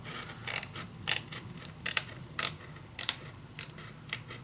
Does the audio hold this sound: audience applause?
no